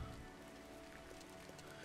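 Steady rain pattering in the farming game Farmers Dynasty, a dense even hiss with scattered drops, continuous and moderately close, with no talking.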